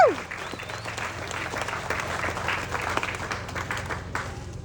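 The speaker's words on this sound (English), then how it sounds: "Give everybody one more round of applause if you will." A crowd applauds at the Rosemark country fair, steady rattling claps spread across many hands, moderately loud and even, with a faint low hum underneath throughout.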